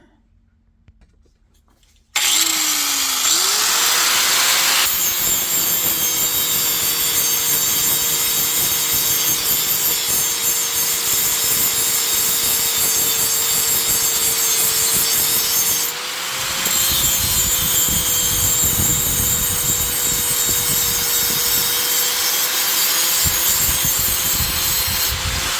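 A power tool grinds a wooden rear seat for a Yamaha Drive G29 golf cart smooth. After a brief quiet start it sets in with a loud, steady whine and rasping scrape, holds that continuous sound up close, and dips slightly midway.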